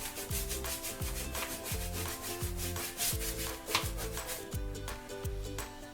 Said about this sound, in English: it's that sound of a brush, the linseed oil smells, seeing the color move around